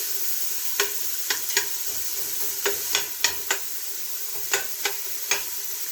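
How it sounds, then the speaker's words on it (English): Chopped onions sautéing in a pot over medium heat give a steady, close sizzle, broken by a dozen or so sharp scraping clicks as a utensil stirs them. "It's on medium heat, and we are going to get a nice saute on these onions"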